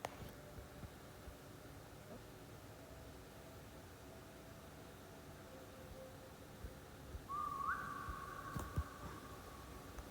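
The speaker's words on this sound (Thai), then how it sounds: "เผลอไปเป่าผิวปาก" A person whistles a short, clear rising-then-level note that lasts a couple of seconds late in the clip, heard faintly over steady background hiss and room noise in an IKEA store.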